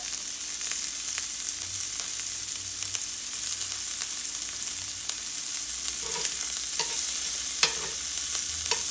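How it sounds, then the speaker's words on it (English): Blanched broccoli sizzling and frying in a pan with a little salt, a steady hiss throughout with occasional stirring scrapes and clicks toward the end, no talking. "So we'll throw in our broccoli in a little bit. Just to give it a little flavor."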